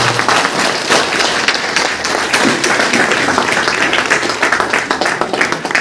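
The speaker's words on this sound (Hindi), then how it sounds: "एक जोरदार ताली होनी चाहिए आप लोगों को" An audience at a DXN meeting in Basti breaks into loud, sustained applause, dense clapping held steady for several seconds with no talk over it.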